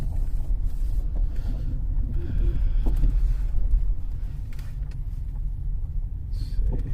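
2013 Cadillac CTS 3.0 RWD on a road test drive after transmission repair: steady low cabin rumble of engine and tires heard from inside, loud and continuous, with faint wind noise and no talking.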